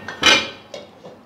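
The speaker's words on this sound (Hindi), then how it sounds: "इसके साथ की मैं एक कढ़ाई लूँगी" A metal kadhai set out for making sesame jaggery laddoos gives a few bright clanks and scrapes, with one loud ringing knock followed by softer taps, close and without talk.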